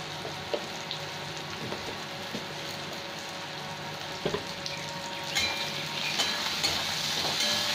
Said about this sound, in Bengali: এবার এই নাড়তে নাড়তে টমেটো গলে যাবে